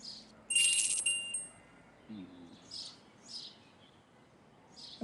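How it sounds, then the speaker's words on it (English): A small hand bell rung during a horse-riding exercise outdoors gives a bright metallic jingle early on, followed by fainter chirpy tones over a quiet background. "And now ring a bell."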